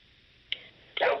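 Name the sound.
dog barking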